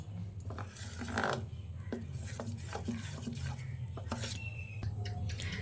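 A utensil stirs semolina batter and water in a bowl for pitha, ticking and scraping against the sides in quick irregular strokes over a low steady background hum, close and fairly quiet, with no speech.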